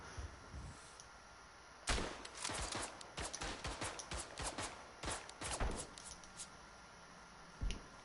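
A ragged string of rifle and machine-gun shots crackles through a World War One trench battle in the game Verdun, loud sharp reports in irregular bursts with a lone shot at the end.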